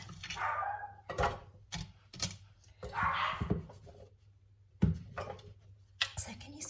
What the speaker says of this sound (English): Wouldn't be one of my videos if the dogs weren't barking